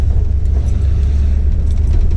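A 1978 Jeep Cherokee Chief engine rumbles low and steady from inside the cabin on a test drive, loud and continuous for a couple of seconds with no talk.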